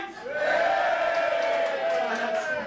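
A comedy club crowd cheers and whoops together in a sustained, loud roar of voices that holds steady throughout.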